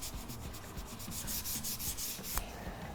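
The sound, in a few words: rubbing in faux concrete finish on wood bar counter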